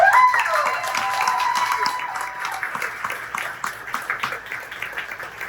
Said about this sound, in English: everybody give Heather a round of applause.